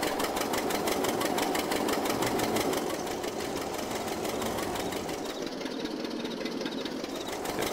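Tractor engine in a farming simulator game, a steady rapid mechanical chugging that runs continuously and fairly loud, easing slightly toward the end.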